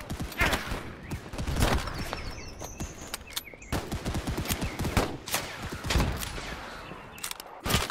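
Rapid musket volleys and scattered gunshots crackle close in a Holdfast: Nations at War battle, with dense irregular bursts throughout, while players talk between the shots.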